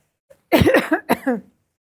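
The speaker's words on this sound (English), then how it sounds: "I always cough here" A few harsh coughs up close, coming in quick bursts over about a second before it goes quiet.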